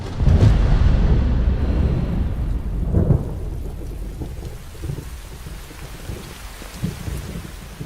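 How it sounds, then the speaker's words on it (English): A loud thunderstorm opens with a heavy rolling crack of thunder, then a long rumble fades under steady pouring rain, with another dull boom midway and a low, continuous hiss of rainfall. "There's a storm coming."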